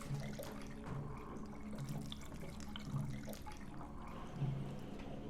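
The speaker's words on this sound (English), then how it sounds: "That is a lot of water." Water rushing steadily in the video game Premonition, a continuous loud flowing wash with a few faint knocks, and no talking.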